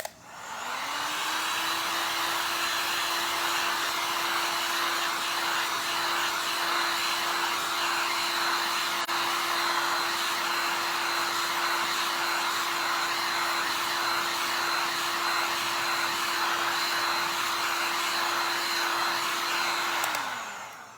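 Heat gun drying paint on wooden shelf sitters, a steady loud whirring blow with a constant hum that runs unbroken for about twenty seconds and stops abruptly, nearby and alone.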